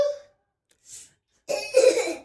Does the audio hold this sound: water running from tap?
no